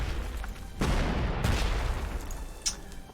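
Units firing in the video game Panzer Campaigns, a dense fusillade of booming shots that blur into a continuous roar, loud and close, with a sharper crack near the end.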